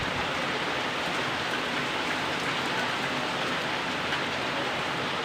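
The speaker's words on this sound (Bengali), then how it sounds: "বৃষ্টি হচ্ছে" Rain pouring steadily outside a balcony, a dense, even wash of falling water that stays loud and unbroken throughout.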